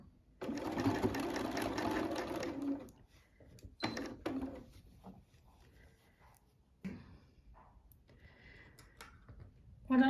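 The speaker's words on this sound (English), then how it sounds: "I'm going to sew 1/4 of an inch down" A sewing machine stitches quilt binding a quarter inch from the edge, starting with a steady close whirring run that stops, then short bursts and clicks of handling follow in quiet.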